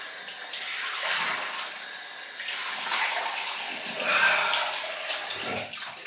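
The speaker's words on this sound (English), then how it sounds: "Final rinse off." Water runs steadily from a tap into a sink for a final rinse after a wet shave with a Muhle R41 Twist safety razor, a continuous close hiss and splash heard alone with no talking.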